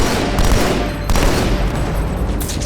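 A grenade explodes amid a battle in the video game Halo 2. Dense, loud crackling combat noise runs throughout, with a sharp blast near the middle and another hit toward the end.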